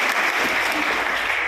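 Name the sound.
loud applause welcoming selected firemen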